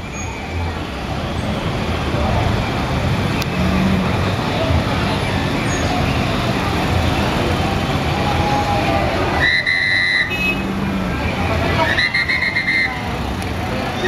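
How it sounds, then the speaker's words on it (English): A police officer blows a whistle on a busy street in Chiclayo, Peru, giving two shrill blasts, each lasting about a second, a couple of seconds apart, over steady roaring traffic noise. "Do you think anybody knows what that whistle means?"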